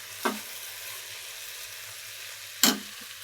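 Vegetables fry in a pan with a constant soft sizzling hiss, broken by two short louder crackles as they are stirred or tossed.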